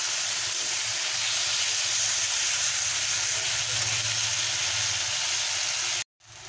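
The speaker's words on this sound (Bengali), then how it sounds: "এটা আমি কষে নেব" Tomato and spices fry in hot oil for a fish curry, a continuous loud sizzling hiss held steady for about six seconds before stopping suddenly.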